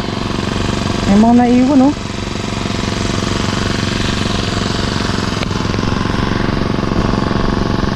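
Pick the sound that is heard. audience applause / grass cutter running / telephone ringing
grass cutter running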